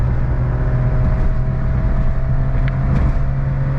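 Kei car engine under hard acceleration at highway speed around 70 mph, a steady loud low drone of engine and road noise that holds throughout, heard from inside the cabin.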